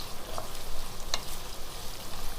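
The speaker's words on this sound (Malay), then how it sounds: "Kita tumis hingga keperangan dan sedikit garing ya." Curry leaves and dried chilies stir-frying in hot oil, a steady close sizzle with a couple of sharp crackles and pops, no voices.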